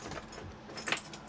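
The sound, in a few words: car key jangling while trying to turn a stuck ignition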